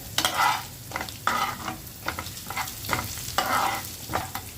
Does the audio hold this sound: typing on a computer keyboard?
no